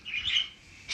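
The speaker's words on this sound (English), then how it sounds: "Bird, shut up!" A pet bird chirping indoors: a close, bright tweet lasting a fraction of a second, followed by a brief second chirp moments later.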